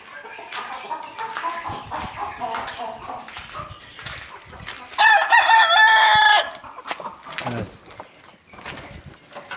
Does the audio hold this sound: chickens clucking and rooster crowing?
yes